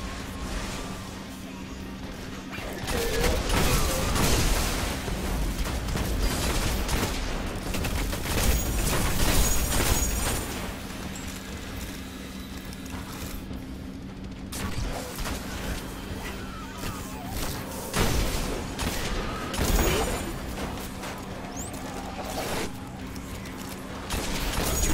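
Rapid auto rifle fire from the Destiny video game, bursts of gunshots with booms and explosions over a steady game soundscape, with players talking intermittently.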